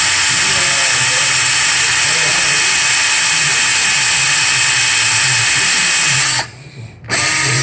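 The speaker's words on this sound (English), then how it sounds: "Let's just drill and see what happens." A power drill grinds out a stuck EGR bolt on a 6.7 engine. The loud, steady high whine runs continuously, then cuts out briefly near the end before starting up again.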